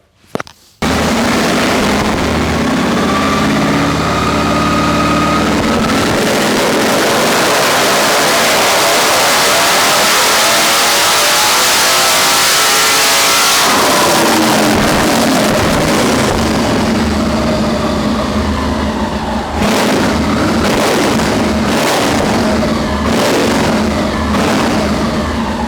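A Harley-Davidson motorcycle engine, running lean on fuel at the top end, revs hard on a dyno. It roars loudly and continuously for about twenty seconds, climbing and falling in pitch, then settles into a choppier, pulsing run near the end.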